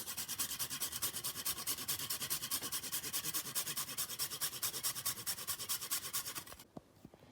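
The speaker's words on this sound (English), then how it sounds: "I'll freshly grate my nutmeg over this." Whole nutmeg is freshly grated over sweet potato pie filling, a close, quiet, steady rhythmic rasping of quick even strokes that stops abruptly near the end.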